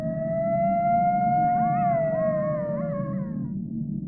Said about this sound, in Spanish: no se oía nada salvo el aullar de los coyotes muy a lo lejos